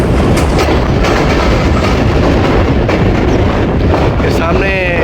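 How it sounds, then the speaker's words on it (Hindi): The Awam Express passenger train rolls along the rails in Pakistan with a loud, constant rumble, rhythmic wheel clatter and strong wind rush at the open window, plus a brief squeal near the end. "रावी रिवर से पास होगी हमारी ट्रेन अब 13 अब अवाम एक्सप्रेस।"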